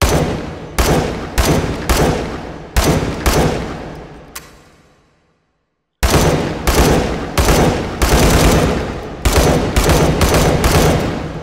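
A Galil SAR bullpup rifle fires in the VR shooting game H3VR: loud, punchy single shots in an irregular series, each with a ringing tail, split by a brief silent pause before the shots resume.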